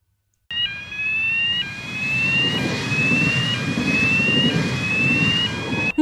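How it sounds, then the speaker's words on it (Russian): A powerful train rushes along railway tracks with a loud, close, continuous roar, while a high warning tone rises and repeats every second or so above the rumble. "Мощный состав, который мчится по ЖД-путям."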